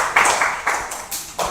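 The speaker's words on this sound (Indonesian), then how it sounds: "Kasih tepuk tangan untuk temannya dulu." Children clapping in a classroom to applaud a classmate, a short burst of several quick claps at moderate volume with no talk over them.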